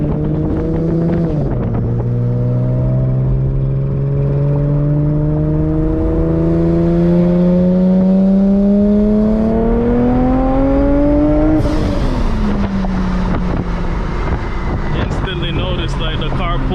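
Supercharged Infiniti G37 accelerating hard through the gears, the engine note climbing steadily with supercharger whine, a brief shift drop near the middle and a second pull with wind noise inside the car.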